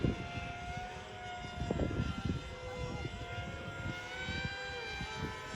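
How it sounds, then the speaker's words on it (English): Several RC model airplanes fly a streamer-cutting combat event, their buzzing propeller engines overlapping in a continuous drone with rising and falling whines as planes pass near and far. "There's a lot of planes in there."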